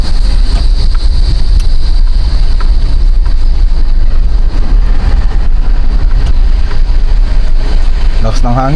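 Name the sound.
strong wind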